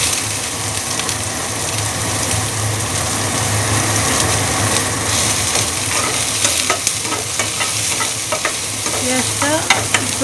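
Chopped onion with panch phoron frying in a pan, a steady loud sizzle throughout with scraping and stirring clicks growing busier toward the end, no talking.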